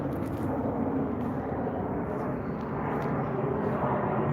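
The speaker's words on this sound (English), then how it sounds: "There's another plane, sorry." An airplane drones overhead above a cemetery at night, a steady, broad rumbling roar that holds at a moderate level through the whole stretch without rising or fading much.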